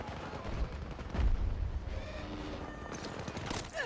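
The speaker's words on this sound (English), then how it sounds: "the turret's just shooting me" Turret gunfire in Battlefield 2042 on PS5: a dense, continuous barrage of heavy rapid shots and booming impacts, loud and relentless throughout with a stronger blast near the middle.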